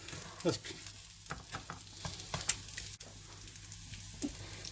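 Potato cutlets (aloo tikki) fry in oil over low to medium heat with soft crackling sizzle and scattered stirring clicks and scrapes, fairly faint and close.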